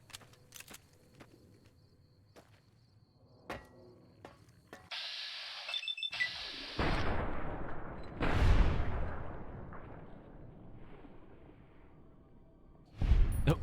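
Gunfire with hollow point rounds in Fallout New Vegas: a handful of separate sharp shots in the opening seconds, then louder blasts with long rumbling decays and a final burst at the end.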